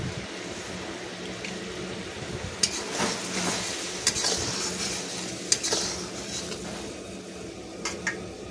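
A spoon stirs curry spices into water with turmeric and salt in a cooking pot, a soft continuous bubbling hiss broken by a few sharp metallic clinks against the pot.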